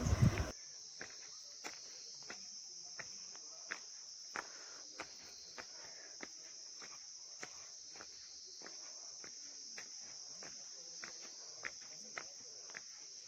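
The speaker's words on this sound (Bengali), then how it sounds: "চলার পথে ঝিঝি পোকার ডাক আপনার কান ঝালাপালা করবেই।" Crickets keep up a constant shrill, high-pitched drone while footsteps crunch at a steady walking pace underneath, on a trail near a lake in Pelling.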